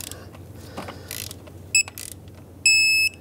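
Socket ratchet tightening valve cover bolts on a 1997-2003 Lexus ES300 engine: faint, short mechanical clicking bursts, followed by two brief, sharp, high electronic beeps.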